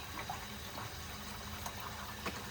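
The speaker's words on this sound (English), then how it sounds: "Just filling this up with water right here." Water pours steadily into the reservoir of a Keurig K-Duo coffee maker, a constant soft splashing hiss at low level.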